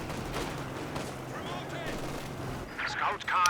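Gunfire from a Company of Heroes 2 multiplayer match, with machine gun bursts and other weapon fire crackling steadily beneath continuous talk, growing louder and sharper near the end.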